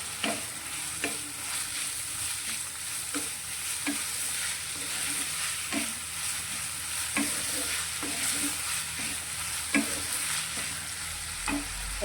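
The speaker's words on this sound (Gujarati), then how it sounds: "અને સારી રીતે વઘારમાં મિક્સ કરીશું।" A pan of grated medium potato being stirred into a hot tempering, with a steady sizzle and repeated sharp scrapes of a spoon against the pan at an uneven rhythm, close and clear with no talking.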